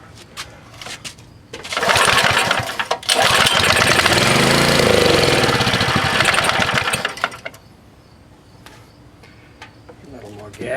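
A small Baja minibike engine sputters to life and revs loudly for several seconds, then drops back to a rough, quieter idle.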